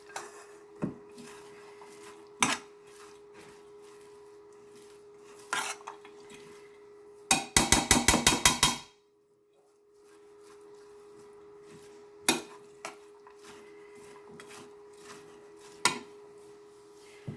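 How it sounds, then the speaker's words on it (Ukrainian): A salad dressed with sour cream and French mustard stirred in a bowl, soft scraping strokes punctuated by sharp utensil clinks against the dish, with a quick rapid burst of clattering taps midway. "Перемішую"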